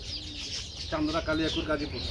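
Pigeons calling at a bird farm where pigeons, other birds, chickens and goats are kept. Close, layered cooing and clucking calls start about a second in and repeat in quick bursts over a steady murmur of background noise.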